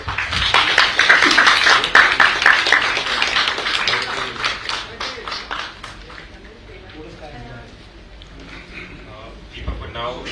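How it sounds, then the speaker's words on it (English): An audience at a regenerative tourism launch event in Goa, held for the unveiling of merchandise, gives a dense round of applause that fades after about four seconds as a voice begins talking. "Could you have a round of applause?"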